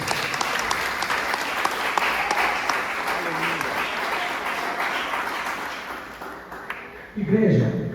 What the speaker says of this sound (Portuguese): Senta aplaudindo a Jesus.